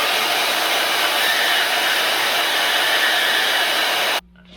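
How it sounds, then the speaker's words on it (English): A portable band saw cuts through a steel rock slider, a loud, steady whining drone held for about four seconds before it abruptly stops. "I'm gonna see if I can cut this with my portaband rather than grind it."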